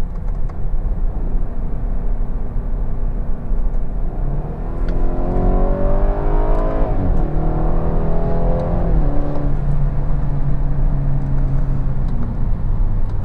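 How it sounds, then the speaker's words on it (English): A 2017 BMW 430i engine revs up and drops repeatedly during downshifts in Sport mode, rising whines falling back between shifts, loud and close over a constant road rumble. "I'll do some downshifts here."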